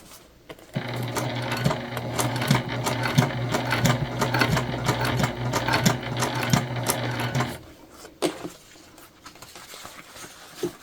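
A sewing machine with a Microtex 90/14 needle stitches a wristlet in a steady, fast, rhythmic whir that runs close and loud for several seconds, then stops, followed by a few light clicks and handling sounds.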